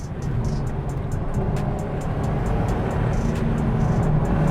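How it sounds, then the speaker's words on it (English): A 2006 Subaru Forester STi with a 2.5 litre engine is driven fast down a road, giving a steady, fairly loud rush of engine and road noise throughout, with no talk. "That's so weird driving a Forester that quickly through there."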